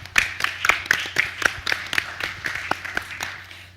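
A small group claps in quick, uneven bursts at a clan conference, honouring the planning committee; the sharp claps sound close and moderately loud with no voices over them.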